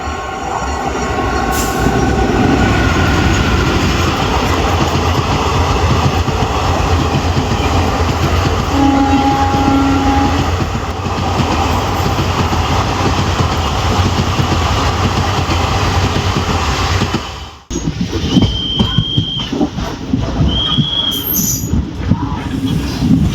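The Narasapur Express rumbles loudly past a railway crossing at New Piduguralla, with a continuous roar of wheels and rattling coaches, brief tonal horn-like notes, then a sudden drop and lighter clatter near the end.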